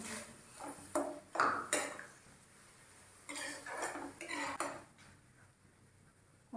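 Cornflakes being fried in a pan for a homemade crispy namkeen mixture give off scattered metallic clinks and scraping stirs, in bursts with quiet gaps between them, close and fairly soft.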